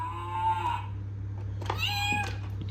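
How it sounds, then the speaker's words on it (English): Cat meowing sound effect from a key on a children's toy keyboard, two clear meows separated by a short pause over a low electronic hum. "It's a cat."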